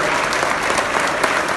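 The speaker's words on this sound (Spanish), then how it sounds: "Fuerte el aplauso, damas y caballeros." An audience applauds at the inauguration of the Costa Rica convention centre, dense, loud, continuous clapping from a large crowd close by with no voices.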